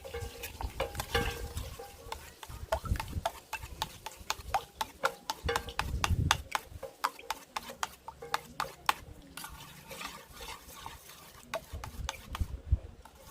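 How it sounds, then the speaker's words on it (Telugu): Five eggs are whisked briskly in a bowl, producing a fast, steady run of light clicking and sloshing strokes close up, with a few pauses in the rhythm. "ఒక ఐదు గుడ్లు కొట్టేసుకొని ఇది బాగా బీట్ చేసుకోవాలి"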